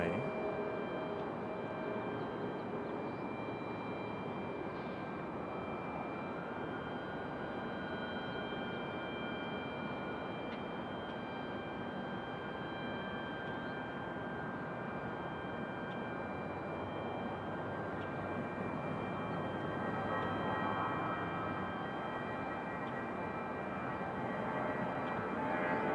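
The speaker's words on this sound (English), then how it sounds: "Good sounding departure out of that A319." An Airbus A319 jet departs from Raleigh-Durham International Airport, and its engines make a broad, steady roar that stays level for the whole stretch, heard from a distance with no talk over it.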